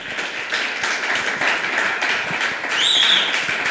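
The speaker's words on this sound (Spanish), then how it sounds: "dele un fuerte aplauso a Dios" A church congregation at a men's congress claps together in steady, dense applause that fills the whole stretch, loud and continuous, with a brief high cheer or whistle rising near the end.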